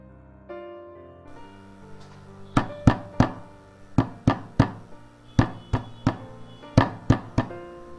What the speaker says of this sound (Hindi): कोई दरवाजा खटखटाने की आवाज आती है।